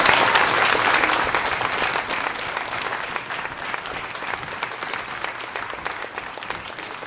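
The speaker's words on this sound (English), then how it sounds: "Could you give them a big round of applause, please?" An audience at a public announcement of the 2018 BC Summer Games in the Cowichan Valley breaks into a big round of sustained applause, loud and dense at first, then easing slightly while continuing to the end.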